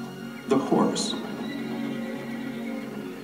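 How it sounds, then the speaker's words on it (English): A horse whinnies in a short, bright burst of rising and falling calls, fairly close and moderately loud, set against steady background hum and speech-like sound. "The horse."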